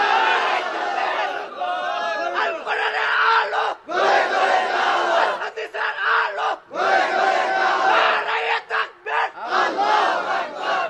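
A large crowd at a Quran tafsir gathering shouts takbir (Allahu Akbar) together in loud, massed surges, roughly five waves of chanting over eleven seconds, each cut by brief pauses.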